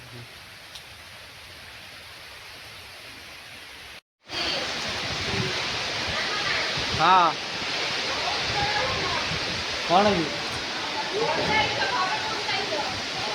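Heavy morning rain pours down steadily, loud and close, as a dense, unbroken rush that begins abruptly after a short quieter stretch, with people talking briefly over it.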